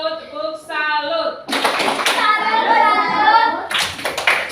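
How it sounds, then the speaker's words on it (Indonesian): A classroom audience of students performs a salute clap, with rhythmic claps mixed with loud chanting and children's voices close by. "tepuk tangan, tepuk salut, tepuk salut"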